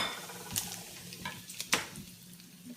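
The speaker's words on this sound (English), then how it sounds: "now I'll give my maple syrup and butter a stir" Maple syrup and butter stirred together in a pan, with a faint bubbling sizzle and a few scattered utensil scrapes and clinks against the pan, close but fairly quiet, no talking.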